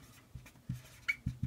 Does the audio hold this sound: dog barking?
no